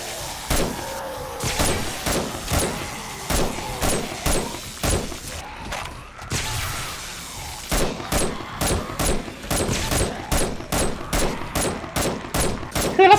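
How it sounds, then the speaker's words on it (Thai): Repeated sharp blasts and bursts of gunfire-like bangs from the zombie survival game 7 Days to Die, with thrown explosives detonating among zombies, a steady rapid series of loud impacts over a busy game soundscape. "ถ้ามันปาโดนซอมบี้มันก็คือระเบิดเลย"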